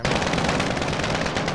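Rapid automatic gunfire from a gun in Call of Duty Warzone, a loud, dense, continuous burst of shots with no pauses, up close and alone.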